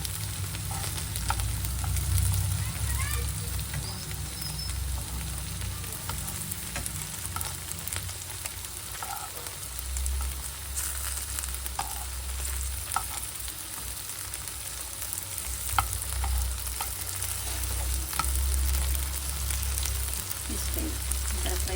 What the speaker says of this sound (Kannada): ಒಂದು 2 ನಿಮಿಷ ಆದಮೇಲೆ ಸ್ವಲ್ಪ ಹಿಂಗೆ ಫ್ರೈ ಮಾಡೋದು